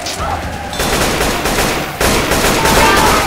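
Dense, continuous gunfire from Left 4 Dead 2 fills the whole stretch, with rapid overlapping shots that swell louder near the end and no talk over them.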